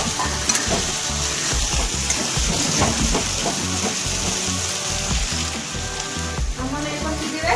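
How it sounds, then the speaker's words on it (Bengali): Tomato paste sizzles and fries in a pan with steady crackling and occasional stirring scrapes, loud and close throughout. "এরপরে টমেটো বাটাটা দিলাম, টমেটোটা লাল লাল করে ভাজতে হবে।"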